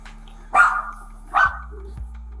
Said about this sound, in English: The only sound coming from inside the house was the barking of the family dog, Pixel.